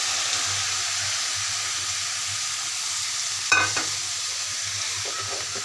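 Prawns and chopped bottle gourd fry in a hot pan for a Bengali lau chingri bhaji, giving a steady, close sizzle with one brief clatter of stirring partway through.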